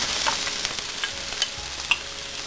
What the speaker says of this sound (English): After the oil is heated up, I will add half cup of chopped onion.